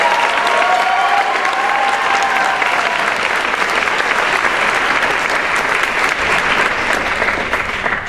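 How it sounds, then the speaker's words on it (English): A convention gala audience applauds award recipients with a full, sustained wash of clapping that holds steady and loud for the whole stretch, with some crowd murmur mixed in. "Another round of applause for Julie and Mike."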